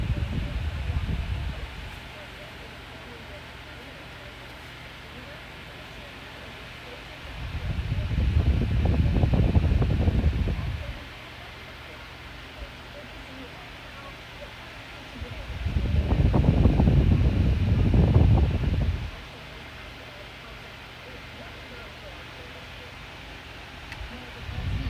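An oscillating electric fan runs steadily, its soft airy whoosh swelling and fading in a slow repeating cycle as the head sweeps toward and away from the microphone, with no rattle.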